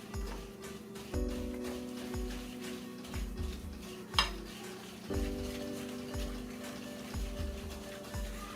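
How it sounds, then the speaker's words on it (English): A whisk beats brown sugar and other cookie dough ingredients in a bowl, giving repeated low, rhythmic thumps and scrapes at a steady pace, close and fairly loud, with no talking. "The whisk, not the spoon. And we're going to whisk it together."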